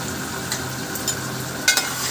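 Ginger garlic paste stirred into onions frying for chicken curry, a steady sizzle with a few scraping stirs and one sharper clink near the end, no voices.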